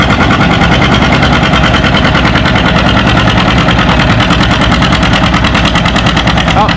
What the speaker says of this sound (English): Here comes one of my favorite John Deeres. I think this is the 720